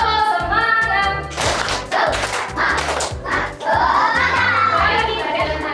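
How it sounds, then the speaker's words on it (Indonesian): Schoolchildren in a classroom do a rhythmic clapping chant, with bursts of handclaps and thumps in a patterned beat alternating with children's voices chanting together, loud and close. "Tepuk semangat."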